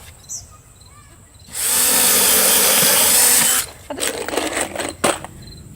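A power drill bores pilot holes into wood for a DIY cabin side table, a loud steady whine of about two seconds followed by a few short, rougher bursts of drilling.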